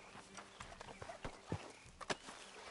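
Horse hooves clip-clop in Red Dead Redemption 2, a few uneven footfalls sounding close and moderately loud over low background noise.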